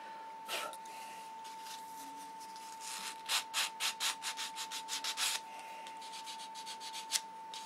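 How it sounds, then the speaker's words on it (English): A run of rhythmic rasping strokes from a sanding block with 320-grit paper rubbing paint on a control line stunt model, quick and evenly paced, with a constant high electrical hum underneath. "one more sand out is going to do it. With a block, 320."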